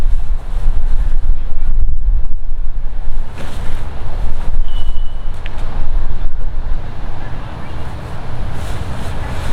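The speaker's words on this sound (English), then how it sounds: "we got a lot of headwind" Strong headwind gusting across an open disc golf course, a steady broadband wind roar buffeting the microphone throughout with slight surges, loud and continuous.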